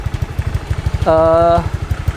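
AHM standard racing exhaust on a motorcycle idling with a steady low pulsing throb, then a short rev that rises for about half a second before it settles back to idle.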